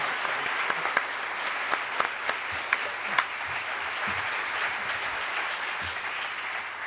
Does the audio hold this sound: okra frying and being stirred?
no